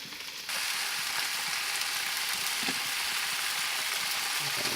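A seasoned steak stir fry sizzling hard in a pan after about 45 minutes of cooking. The loud, steady hiss starts suddenly and then holds even and close.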